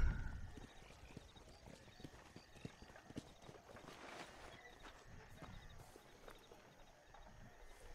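Horse hooves clip-clop in a steady, brisk rhythm in a video game, faint and continuous with a bit of game ambience around them.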